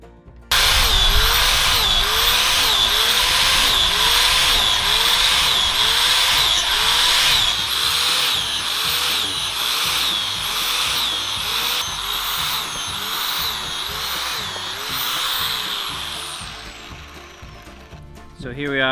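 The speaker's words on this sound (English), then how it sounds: "We're gonna start the process by drilling holes in the log." A power drill bores holes into a hardwood log for shiitake mushroom inoculation. The motor revs loudly and steadily in repeated rising-and-falling whines for most of the stretch, then winds down near the end.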